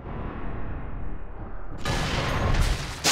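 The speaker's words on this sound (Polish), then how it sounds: "Czekamy na wybuchy, które teraz będą." Explosions in the video game Sniper Elite III: Afrika begin with a muffled rumble, then a sudden loud blast brings a dense roar of booms and crackling debris, close and continuous.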